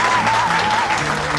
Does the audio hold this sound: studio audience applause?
yes